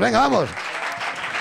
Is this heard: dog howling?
no